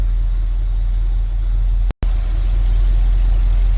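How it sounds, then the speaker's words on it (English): A 1962 Ford F-100 pickup's V8 idles with a deep, steady, loud rumble close by, broken by one abrupt split-second dropout, with no voices. "Nice little rumble coming out of that V8."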